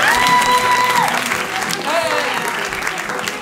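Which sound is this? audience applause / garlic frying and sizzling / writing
audience applause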